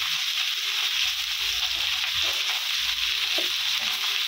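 Taro root pieces frying in a pan with salt and turmeric give off a steady, close hiss of sizzling oil, with faint stirring knocks underneath and no talking.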